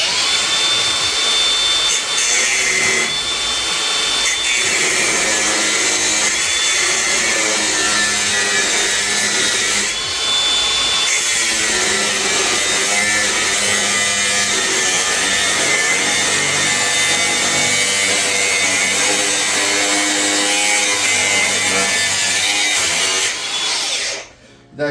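Power tool grinding on a frame and chassis build in a workshop, a continuous loud abrasive whine and rasp holding steady for nearly the whole stretch before cutting off at the end.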